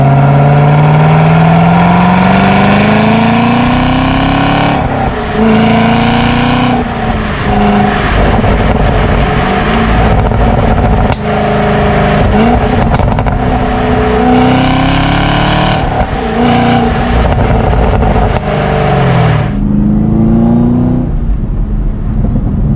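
Loud, throaty exhaust of a Chevrolet Camaro ZL1 or Ford Mustang GT350 in track mode revving up and down in repeated surges, with rising engine pitch sweeps and a rumbling idle between pulls, up close.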